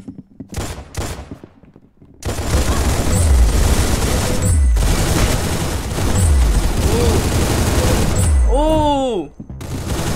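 Video game gunfire in the shooter Arsenal: a sustained loud barrage of rapid shots with booming impacts fills most of the stretch, while a voice speaks over it.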